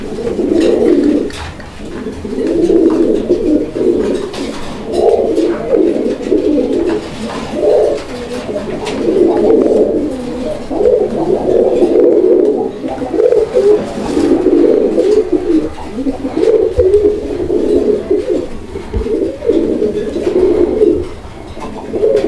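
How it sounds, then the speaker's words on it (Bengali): A pair of Masaldom fancy pigeons coos continuously at close range, with repeated soft, throaty, rolling calls overlapping one another in a steady rhythm throughout. "এটা হচ্ছে মশালদম কবুতরের একটা জোড়া"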